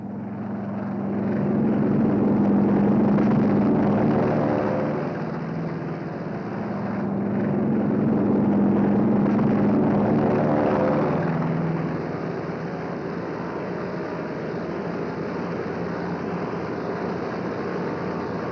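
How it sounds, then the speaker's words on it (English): WWII carrier aircraft taking off from a flight deck into a strong trade wind, propeller engines droning in two swelling passes that rise and fade, followed by a lower steady engine hum. "Our entire air group thunders out behind the group commander."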